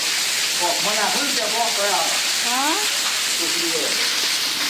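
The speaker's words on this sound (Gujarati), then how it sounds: "આ મઘાનો પેલો વરસાદ" Heavy monsoon rain pours down in a dense, steady hiss, and people talk over it.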